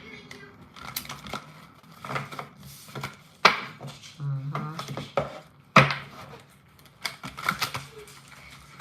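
Hands shuffling a deck of cards, likely tarot or oracle cards, with repeated crisp riffling, tapping and sliding noises in irregular bursts, including a couple of sharper knocks, close and fairly loud.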